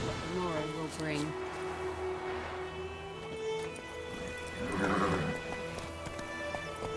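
Horse hooves clip-clop steadily in The Witcher 3, with an occasional whinny, heard under game music and voices speaking throughout.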